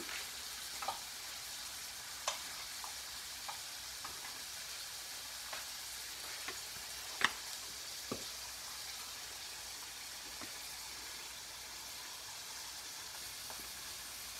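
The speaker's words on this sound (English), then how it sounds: "I'm sauteing, like I said, the sweet peppers, I have some mushrooms," Sweet peppers, mushrooms and onions sauté in a pan beside pan-seared pork chops, making a soft, quiet sizzle with scattered small pops and utensil taps.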